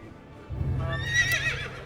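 A horse in the game Quinfall neighs once, a high wavering whinny over a low rumble, fairly close and clear.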